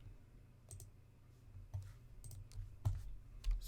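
Sparse clicking keystrokes on a computer keyboard while entering a terminal command on Kali Linux, a few separated taps building into a quick cluster near the end, close and fairly quiet over a low steady hum.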